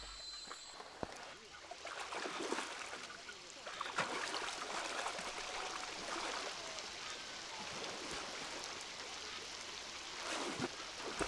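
A river current flows steadily in a forested mountain valley, producing continuous broadband watery rushing at close range with brief splashes and crackles, and no voices.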